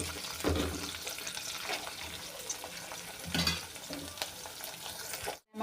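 Curry leaves hit hot oil with sliced onions for an okra curry, bursting into a loud crackling sizzle, stirred with a couple of scraping swells before the sound cuts out abruptly at the end.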